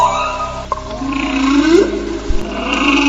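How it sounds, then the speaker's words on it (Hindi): A whale sings in long, low, moaning tones that slide and rise in pitch, with faint higher calls behind them and no speech. "क्या आपने कभी किसी वेल को गाते हुए सुना है?"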